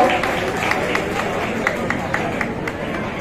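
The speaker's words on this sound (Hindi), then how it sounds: "तालियों से भी स्वागत हो।" A crowd at a public political gathering with Ajay Singh Chautala claps to welcome a guest, the applause steady and moderately loud with brisk, evenly spaced claps standing out.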